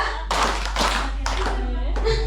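Children in a group clapping game at a shared iftar gathering strike a few sharp claps together, with young voices talking and murmuring around them.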